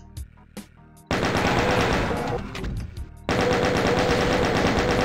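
Rapid, loud gunfire from DOOM 2 on PC, a short shot or two, then a sustained mechanical burst of fast repeating shots, a brief lull, and another dense rattling volley.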